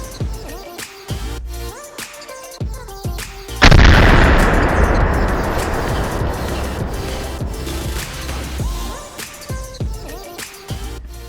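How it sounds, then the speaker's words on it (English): A 50 caliber rifle fired outdoors: one massive loud blast with a long rolling echo, among quieter sharp shots before and after. "the highlight of that was 50 caliber rifle"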